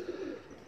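A pigeon gives a single soft, low coo, faint and close, lasting under a second.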